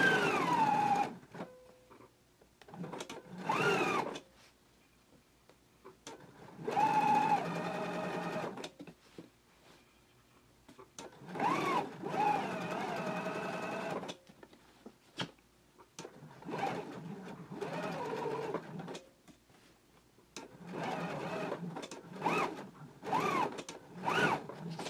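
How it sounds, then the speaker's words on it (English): A domestic sewing machine top stitches a hem facing on a Simplicity dress pattern, running in repeated bursts of steady whirring stitching with short pauses between, close and fairly loud, with no talking. "So let's go ahead and top stitch it in place now."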